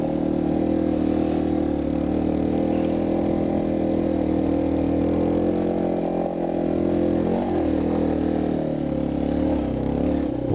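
A vehicle engine is held at open throttle while climbing a mountain road, a steady, loud drone with a constant rumble and faint wind noise, sustained throughout without a break.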